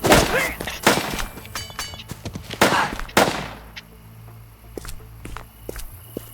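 Gunfire in the Crime Simulator video game, several sharp loud shots in quick irregular succession early on, then fainter scattered clicks and thuds, with players' voices speaking faintly at times.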